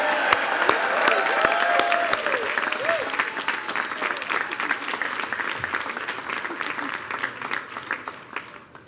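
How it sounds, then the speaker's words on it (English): Guests at an LGBT Pride reception clap loudly and steadily for the mayor, a full room of applause with scattered whoops, slowly thinning toward the end. "Please, give him another round of applause."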